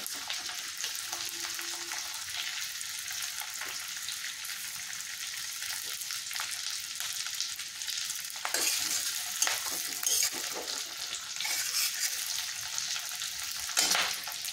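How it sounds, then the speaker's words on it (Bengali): Sliced onions frying lightly in a pan for chili chicken fried rice give a steady soft sizzle throughout, with a few louder crackling bursts and stirring scrapes near the end, no voices. "পেঁয়াজটা দিয়ে আমি হালকা হালকা করে ভেজে নিচ্ছি জিনিসটা"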